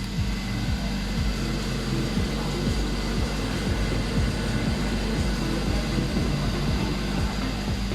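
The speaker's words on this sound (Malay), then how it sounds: "Itu bunyi engine dia." A steady, low Hyundai Kona car engine drone hums continuously at moderate volume, with a faint rhythmic pulsing underneath and no other sounds.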